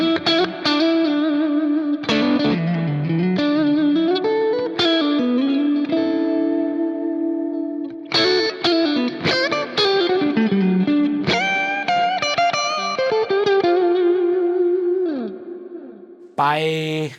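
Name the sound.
Fender Hybrid II electric guitar with wet reverb effect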